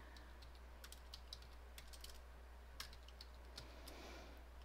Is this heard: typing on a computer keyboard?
yes